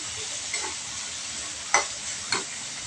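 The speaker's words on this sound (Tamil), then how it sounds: "இதை கொஞ்சம் நேரம் நல்லாவே எண்ணெயில் வதக்கி விடலாம்" Steady sizzle of masala spices frying in hot oil for a curry, with a few scraping stirs of a spoon against the pan.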